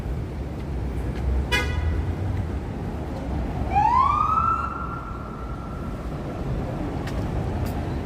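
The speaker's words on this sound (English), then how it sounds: "There's sirens there." On a congested Manhattan avenue near East 46th Street during UN General Assembly gridlock, a police siren rises in one loud, clear wail over constant traffic rumble, with short horn-like toots sounding before it.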